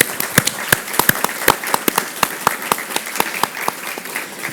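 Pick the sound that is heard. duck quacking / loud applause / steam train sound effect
loud applause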